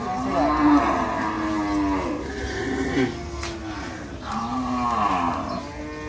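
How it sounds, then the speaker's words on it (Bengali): Deep, drawn-out moos from large bullocks at Gabtoli cattle market, several overlapping calls from nearby animals against a busy crowd murmur. "গাপতুলি হাটের বিশাল সব বলদ"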